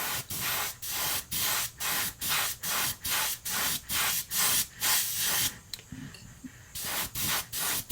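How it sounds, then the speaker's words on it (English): Aluminum spray paint sprays onto a small fishing lure in quick, evenly timed bursts of close, loud hiss, about a dozen short blasts with a brief pause before the last few. "I'm gonna go ahead and spray some of this aluminum on the back here."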